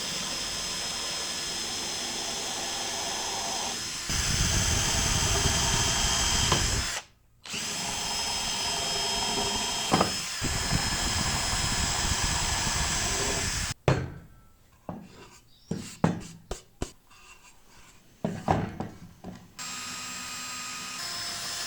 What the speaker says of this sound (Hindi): और अब चाहिए मुझे ये वाली बिट स्क्रूज़ के लिए सुराख करना है।